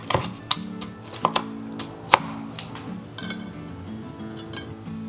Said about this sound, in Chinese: 切猪肉的时候，感觉比刚才烤箱那块切得更容易